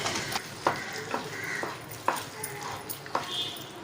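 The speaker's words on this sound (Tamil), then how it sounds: "ஸோ இந்த மாதிரி வர வரைக்கும் நல்லா அப்படி கிளறி விட்டுகிட்டே இருக்கலாம்" A spoon or ladle stirring kesari in a pan, with intermittent scraping strokes at an irregular rhythm over a low background hiss, moderately close.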